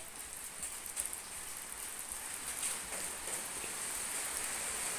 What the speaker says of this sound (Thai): ฝนตกแล้วเร็วๆมานี่